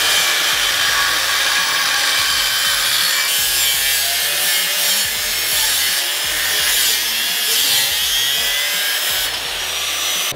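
A cutting-disc machine, likely an angle grinder, runs continuously at close range in a car workshop, with a loud, steady, harsh high-pitched grinding whine and no pauses.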